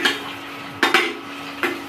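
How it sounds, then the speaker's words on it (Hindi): Onions being stirred and browned in a pan while making Maggi noodles, with a few sharp utensil scrapes against the pan over a soft, steady background hiss. "चला रहे हैं अभी इसको अच्छे से भून रहा"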